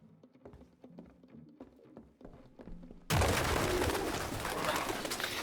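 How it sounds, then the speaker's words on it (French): Pigeons coo in a derelict room in the video game Detroit: Become Human, soft repeated calls at first, then a sudden loud burst of dense noise, like the flock flapping up, takes over for the rest. "Ah, Les pigeons."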